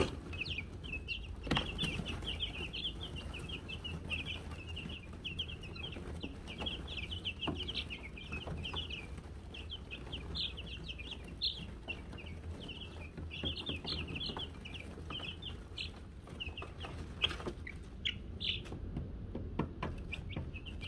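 Baby chicks cheep and cluck continuously at close range while pecking at a treat cake from a feed store, their high chirps repeating over a low steady background hum.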